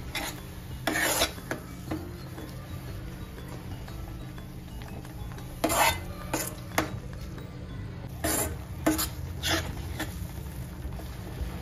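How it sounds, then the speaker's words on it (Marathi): Amla oil is stirred in an iron kadhai, with intermittent scraping and rasping strokes of the spoon against the metal over a low steady background hum. "सारखं ते ढवळत राहायचंय, मिक्स करत राहावं सारखं"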